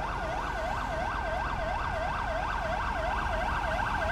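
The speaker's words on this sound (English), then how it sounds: "Alright, ambulance rolling up." Ambulance siren wailing steadily in a repeating up-and-down sweep as it arrives in GTA V with the LSPDFR police mod, loud and continuous over a rumbling engine and street background in Mirror Park.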